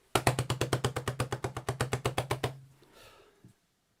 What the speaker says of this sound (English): Drum roll, please!